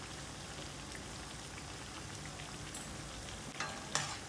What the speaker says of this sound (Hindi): मैं इसको बिल्कुल स्लो हीट पे फ्राई कर रही हूँ